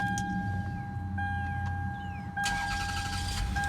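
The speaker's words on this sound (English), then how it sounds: "turn the vehicle on. And run it through the gears." A car engine cranks and catches during a transmission fluid drain and fill, a brief starter whir followed by a louder rise into a running engine, with a steady electrical whine underneath.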